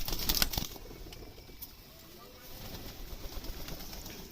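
Racing pigeons and other birds at a pigeon farm in Sonamasjid, Rajshahi, heard as quiet cooing and fluttering with a busy burst of activity near the start, then faint bird noise and soft background sounds.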